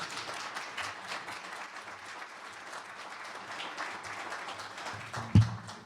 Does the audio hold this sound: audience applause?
yes